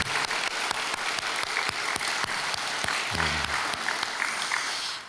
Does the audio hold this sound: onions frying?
no